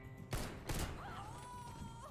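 Gunfire in Counter-Strike: Global Offensive during a one-on-one match, two short bursts of shots in quick succession followed by quieter game sounds with a rising tonal whine, no talk over it.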